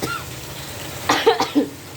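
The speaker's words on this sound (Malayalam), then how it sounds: "ചുമയ്ക്കാൻ തോന്നുന്നു, ഒരു മിനിറ്റ് ചുമക്കട്ടെ" A person coughs a few times in quick succession, close and loud, after a short quiet moment.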